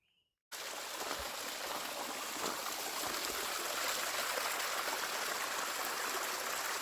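A mountain stream on a steep trail rushes and splashes continuously, a loud, close, steady broadband flow of water that starts abruptly after a brief quiet moment and holds without pause.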